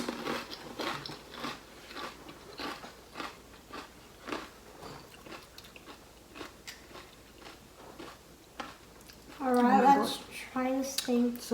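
Crunchy pani puri (gol gappa) shells filled with chickpeas and sweet tamarind-date chutney and mint water are bitten and chewed close up, giving a run of short crisp crunches, then a louder burst of chewing near the end.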